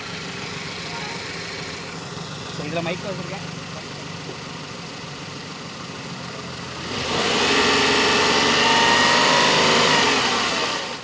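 A small Renault Kwid car engine idles under a voice, then revs up sharply and holds a loud, steady roar to the end.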